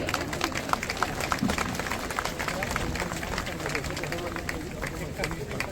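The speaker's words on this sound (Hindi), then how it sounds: "हम लोग तालियों के साथ स्वागत करेंगे।" Crowd applause welcoming a bishop as chief guest at a historic Christian festival gathering, steady scattered clapping from many hands mixed with murmuring crowd noise and a voice over a sound system.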